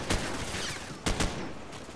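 Bursts of gunfire from the Call of Duty 4 video game, a couple of loud shot clusters near the start and middle over a continuous noisy battle background.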